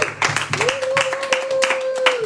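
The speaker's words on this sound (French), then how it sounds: "Applaudissez." Scattered hand claps from a church congregation mixed with voices, and a sustained sung or held tone running through the middle.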